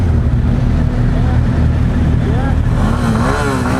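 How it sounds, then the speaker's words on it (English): Loud 2016 Suzuki GSX-S1000 sport motorcycle engine idling and revving up at a stoplight, close by, with a voice speaking over the roar. "We're at a stoplight, let's give it some revs here."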